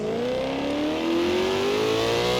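A car engine in the racing game Forza Horizon 5 revs up steadily, its tonal whine climbing smoothly in pitch over a couple of seconds, loud and close with no other sounds.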